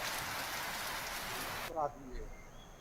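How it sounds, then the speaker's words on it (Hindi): Heavy rain falling in Srinagar, Kashmir, a dense steady hiss for most of the stretch before it cuts off abruptly, followed by a brief voice-like sound and quiet background. "गर्मी की शिद्दत से बहुत ज्यादा आज बारिश हुई है"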